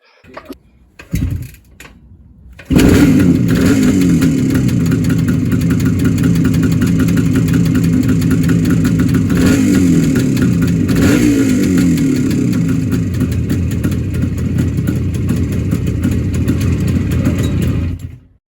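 A Suzuki T500R two-stroke motorcycle with the choke on is kicked over and catches after a couple of brief sputters, then runs loudly and steadily up close, idling with a few blips of revving before shutting off.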